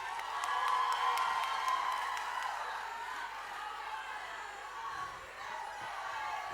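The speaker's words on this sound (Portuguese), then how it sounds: "Uma salva de palmas para todos vocês." At Matias Damásio's show at the Santo Amaro 2025 festival, an audience claps and cheers steadily, a dense wash of applause with scattered whoops that eases slightly toward the end.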